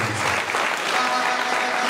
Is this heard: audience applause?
yes